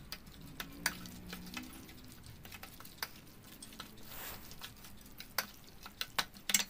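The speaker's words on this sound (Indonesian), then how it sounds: "kemudian saya aduk lagi" A spoon scrapes and taps irregularly against a bowl as sweet corn fritter batter with egg is stirred, with soft wet clicks and brief louder knocks.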